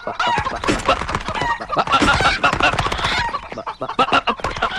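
Chickens meant for slaughter escape and cluck and squawk in a noisy flurry, rapid overlapping calls with bursts of agitated crowing-like cries, close and continuous over several seconds.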